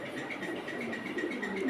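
Pakistani pigeons on a pigeon farm coo softly in a brief low murmuring run, close and moderately quiet, with faint talk around them.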